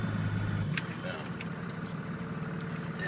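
A four-wheel drive vehicle's engine runs with a low steady rumble close by, shifted into four-high and reversing, and a voice speaks over it.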